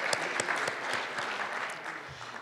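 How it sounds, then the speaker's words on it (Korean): Forum opening-ceremony audience clapping in a hall, moderately loud scattered applause with individual sharp claps standing out, gradually thinning toward the end. "여러분들 박수 한번 주시죠."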